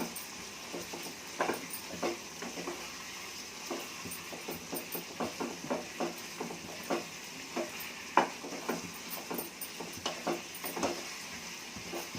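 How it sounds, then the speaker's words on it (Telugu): A spoon stirring tomato curry in a cooking pot, soft repeated scraping strokes in an uneven rhythm with a light sizzle underneath, close and fairly quiet. "వేసి అంతా ఒకసారి తిప్పి మూత పెట్టుకొని కొంచెం సేపు ఉడకనిద్దాం."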